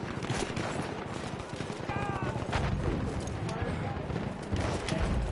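Battlefield 1 combat rumbles with dense, overlapping explosions and gunfire in a continuous loud barrage, with shouting voices woven through the chaos.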